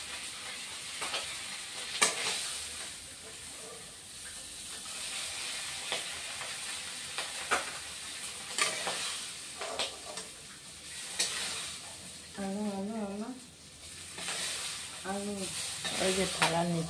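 Fried fish lifted out of a hot pan with a ladle, with ongoing sizzling and scraping clatter up close while a voice talks intermittently.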